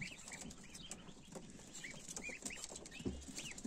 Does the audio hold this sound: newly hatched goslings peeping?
yes